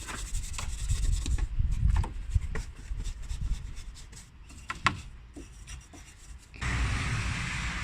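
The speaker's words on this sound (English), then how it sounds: "I'll just agitate that with the brush again." A detailing brush scrubs cleaner over a car engine bay, with repeated close rubbing and scratching strokes in uneven bursts that ease off midway and then return more strongly.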